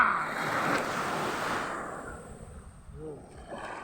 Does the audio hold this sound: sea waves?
yes